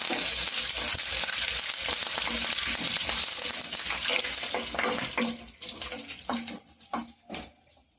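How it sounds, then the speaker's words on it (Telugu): Curry leaves sizzle and crackle loudly in hot oil in a pan, a dense steady frying hiss that gradually thins into sparser pops and spatters toward the end, with no talking. "మీడియంలో పెట్టుకొని కరివేపాకు వేసుకుందాం."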